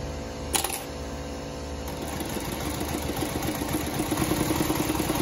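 A Consew 146 zig zag walking foot sewing machine runs with a steady, close mechanical hum and a fast rhythmic clatter that builds gradually after a brief knock near the start.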